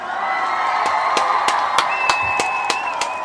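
An audience breaks into steady applause and cheering, with sharp individual claps punching through a dense crowd roar and a few whoops; loud and close throughout.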